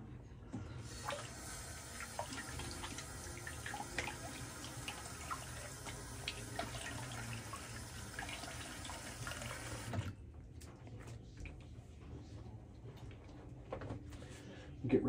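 Running water being emptied and rinsed at a sink during a wet shave, a steady faint splashing flow that stops abruptly midway, followed by quieter drips and handling sounds.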